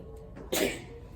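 A single sharp sneeze bursts out close by, loud and brief, surrounded by quiet room tone.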